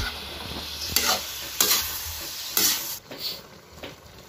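A shrimp dish is stirred in a pan, giving a soft steady sizzle with a few sharp utensil knocks and scrapes spaced about a second apart.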